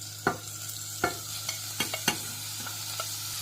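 Minced meat and onions sizzle in a pan while a spatula scrapes and stirs in irregular knocks, a steady crackle with a low hum beneath, no speech.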